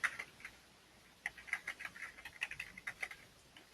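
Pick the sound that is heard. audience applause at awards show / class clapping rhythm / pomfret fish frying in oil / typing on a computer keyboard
typing on a computer keyboard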